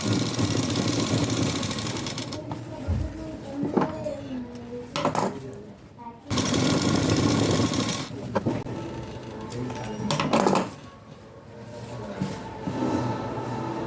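Sewing machine stitching blouse sleeves, running in loud rapid mechanical bursts that stop and restart several times, close by, with brief handling clatter between runs.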